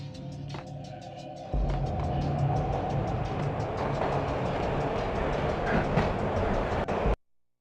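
A train runs steadily along the rails in a PS2 video game, a continuous close rumble with rhythmic clatter that swells as it begins, then cuts off abruptly at the end.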